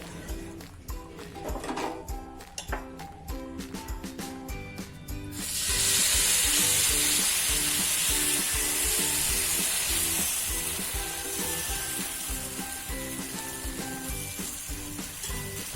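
Sweet wheat-flour pudla sizzle in ghee in a pan: scattered taps and scrapes, then a loud, close, steady frying hiss swells up and holds to the end, with no talk.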